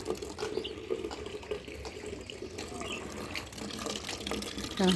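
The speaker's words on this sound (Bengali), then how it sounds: "কলটা বন্ধ করি" Water runs steadily from a tap as a low, continuous splashing rush, faint and even throughout, with small clatters and background noise.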